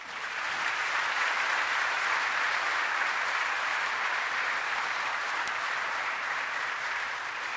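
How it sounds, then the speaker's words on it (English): A large stadium crowd applauds steadily for Hank Aaron at a Civil Rights Game held by the Atlanta Braves, a dense, even wash of clapping that holds for the whole stretch with no talk over it. "let's give that great man a round of applause"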